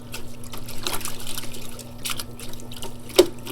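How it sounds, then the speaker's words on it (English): Plant roots of a vitex chaste tree are rinsed in a bucket of water, giving a soft, steady trickling and sloshing close by, with a small splash near the end and no talking. "So right now I'm going to take it in my bucket and rinse it."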